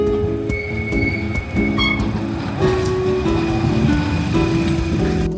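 Tram ride through Rio de Janeiro, with a steady rumble of the carriage and a few high, drawn-out wheel squeals over a continuous rail noise throughout.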